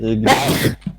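A single sharp sneeze, close and loud, with a short breathy intake before it and a brief vocal sound right after.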